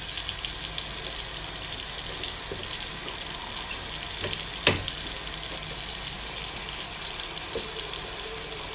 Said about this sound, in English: I just wanted to wash my hands.